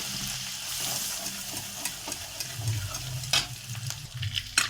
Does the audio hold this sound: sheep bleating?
no